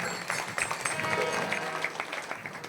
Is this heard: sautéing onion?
no